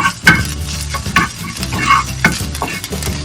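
Garlic and green chillies frying in oil over high heat, a loud close sizzle with repeated stirring scrapes of a utensil against the pan at a steady rhythm, and no talking.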